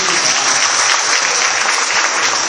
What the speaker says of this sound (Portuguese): Agora aplauda ao Senhor essa noite.